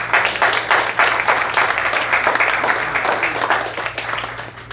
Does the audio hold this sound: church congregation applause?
yes